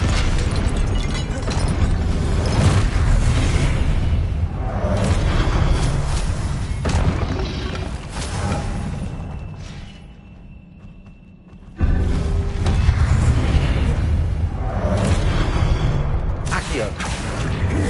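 Incendio fire spells burst during a spell-casting fight in a Hogwarts video game, loud repeated whooshing blasts and thuds that drop to near quiet briefly before the clash resumes.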